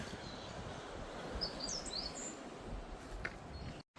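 Sparrows chirp in short, high scattered bursts from a roadside barricade, fairly faint over steady outdoor background noise and wind rumble.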